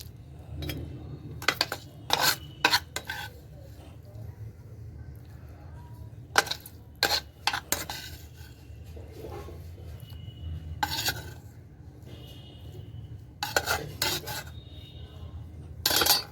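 Roti pachadi ingredients pounded in a mortar, the pestle striking in short clustered bursts of gritty, grinding thuds separated by quieter pauses, moderately close with no voices.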